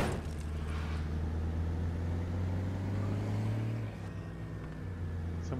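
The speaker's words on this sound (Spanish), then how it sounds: "Hace mucho ruido este coche." Car engine in State of Decay, a steady loud rumbling drone as the vehicle drives along, its pitch shifting slightly and easing off toward the end.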